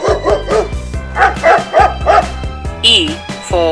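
A dog barks close by in a quick run of sharp, high yips, about eight in a row, ending with a short whine.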